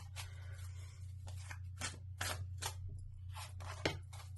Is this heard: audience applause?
no